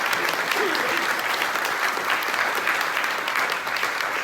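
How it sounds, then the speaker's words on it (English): Audience at an anniversary concert breaks into sustained, dense applause, loud and even throughout with no letup. "Yes, you're allowed to clap."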